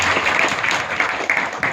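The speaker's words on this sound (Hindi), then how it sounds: "तालियां बजाइए" Workshop attendees at a career guidance session clap for a participant, a short burst of dense, fairly loud clapping from a small crowd.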